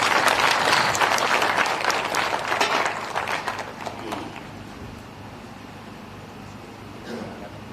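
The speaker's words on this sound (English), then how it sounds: "Let's give her a round of applause." A room of dignitaries at a Kenya–EU trade deal signing ceremony bursts into loud, dense applause that gradually fades over several seconds into quiet room tone.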